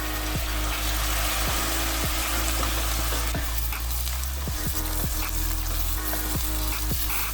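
Chopped tomato sautéing in a pan for raw jackfruit curry, with a dense, constant sizzle under periodic scraping strokes of a spoon, close and with no talk.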